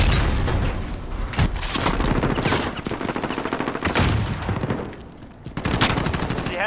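Rapid automatic gunfire from Call of Duty: Modern Warfare multiplayer, dense bursts of loud cracking shots and booms layered over one another almost continuously, with a brief dip before firing resumes.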